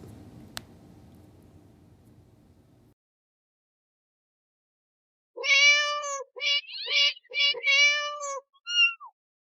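A short jingle built on a cat meowing, a run of several bright, rhythmic meows in quick succession, heard clearly alone after a brief stretch of low noise and silence.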